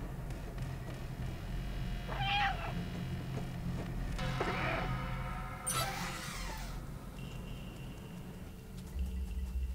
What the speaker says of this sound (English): Look at the little kitty.